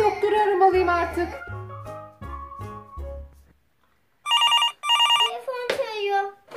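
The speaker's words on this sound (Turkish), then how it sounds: "Telefon çalıyor." A telephone rings in a children's animated story: two bright electronic bursts of ringing follow a stretch of a childlike voice speaking, then a brief chirpy tone closes the clip.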